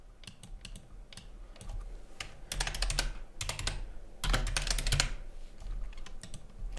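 Keys clatter on a computer keyboard as text is typed into Lumion 12 Pro architectural software, coming in quick bursts of clicks with short pauses between, close and fairly loud with no talking.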